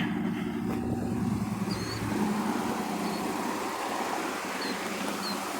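A 1959 Ford Skyliner sits with its engine idling, a steady low rumble heard from inside the car at a constant level, with faint ticking and small chirps over it.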